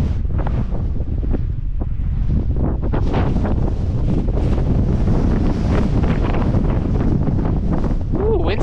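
Strong wind buffets a microphone on the Heaven's Gate triple chairlift at Sugarbush, a loud continuous rumbling roar with gusty surges, with occasional talking beneath it.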